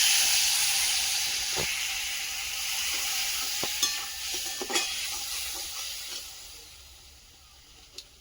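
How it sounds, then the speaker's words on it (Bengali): Spice paste of chili powder whisked with water sizzles steadily in hot oil, a continuous close frying hiss with a few faint clinks and stirring knocks, no voices. "জল দিয়ে মশলাটাকে ভালো করে ফেটিয়ে নেব করা মশলাটা তেলের মধ্যে দিয়ে দেবো"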